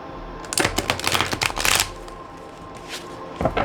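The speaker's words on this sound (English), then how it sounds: "Trying to shuffle these cards. I haven't used them in a while, so they are pretty stiff." A stiff deck of cards riffled in a quick burst of flapping snaps, then a pause and a brief second shuffle, close up.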